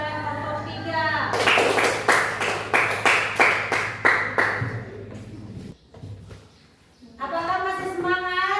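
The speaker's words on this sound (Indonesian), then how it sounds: "Berikan aplaus kepada kelompok 3." A class applauds a presenting student group, a burst of quick rhythmic clapping lasting about four seconds, framed by a voice speaking before and after.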